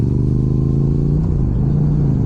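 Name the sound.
Yamaha R7 motorcycle engine revving for race start practice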